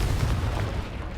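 A Confringo blasting curse explodes in Hogwarts Legacy, a short heavy boom with a rumbling low burst that fades quickly, heard alone.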